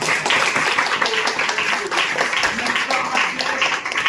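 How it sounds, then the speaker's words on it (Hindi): A church congregation claps together in steady, dense applause during a Hindi-language sermon, filling the whole moment with loud, even hand-clapping and a faint murmur of voices underneath. "मेरे भैया ताली बजाइए इस बात"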